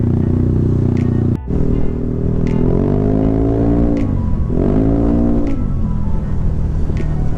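Close and loud, a Yamaha Aerox scooter with a bored and stroked 240cc engine blips its throttle twice, each rev rising then falling over a steady idle, following a brief cutout near the start.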